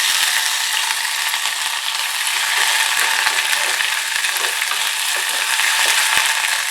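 Ground ginger and cumin sizzle and fry in hot cooking oil, a loud, continuous crackling hiss with scattered small pops and no talking.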